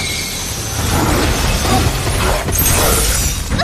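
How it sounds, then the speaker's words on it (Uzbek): Loud crackling shatter of brittle fragments breaking apart, a dense burst of sharp debris noise that swells again near the end. "Muzli bo'laklar."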